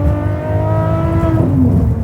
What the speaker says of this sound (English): So the way that this thing revs up is insane, and then the noise of it with that exhaust system